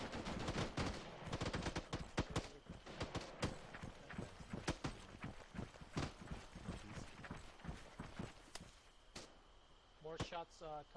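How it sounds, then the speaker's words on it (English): Rapid bursts of gunfire in an Arma 3 infantry battle, a dense run of sharp cracks and overlapping shots at varying distance, with brief speech-like sounds near the end. "More shots coming in up there"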